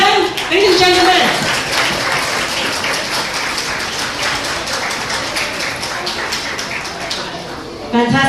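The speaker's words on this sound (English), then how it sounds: "Another round of applause to them, ladies and gentlemen" Wedding guests at a reception applaud the couple, with sustained, dense clapping close by and loud throughout, and a voice speaking briefly near the start and end.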